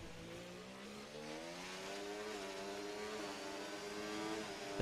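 A race car engine in a racing video game at the Miami Grand Prix, a steady high-revving drone that climbs slightly in pitch as it blasts down the track, loud and continuous with no talk.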